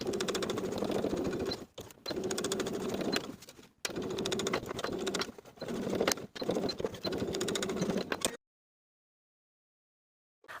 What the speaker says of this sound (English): I'm going to understitch, sewing this seam allowance to the fly with about an 1/8 inch seam allowance